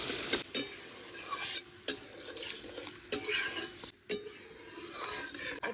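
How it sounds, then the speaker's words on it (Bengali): Water is added to a frying black cumin spice paste, bringing a loud, steady sizzle broken by several sharp spoon scrapes and clinks against the pan. "এখন পরিমাণ মতো জল দিয়ে দেবো"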